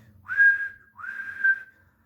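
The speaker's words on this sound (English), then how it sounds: ""Happy Christmas," whistled the engines as they reached the place" Train engines sound two sustained, clear whistle blasts one after the other, each steady in pitch with a short gap between, against a quiet background.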